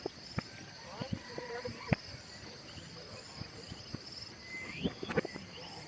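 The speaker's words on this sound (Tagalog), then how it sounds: "Sabayan pa ng tunog ng mga kuliglig at huni ng mga ibon." Crickets chirp and birds call softly at a calm, peaceful campsite, with scattered brief chirps and faint clicks over a quiet background.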